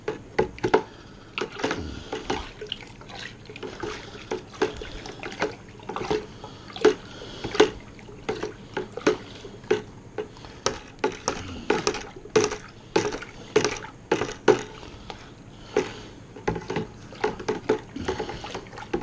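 Mead must being stirred in a 5 gallon bucket, with irregular sloshing liquid splashes and knocks at a steady close-up pace throughout, no talking.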